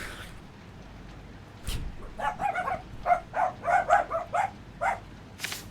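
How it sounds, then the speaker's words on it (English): A dog barks repeatedly in quick, high-pitched bursts, fairly close, after a short quiet stretch. "Boys, no barking. Guys, no barking."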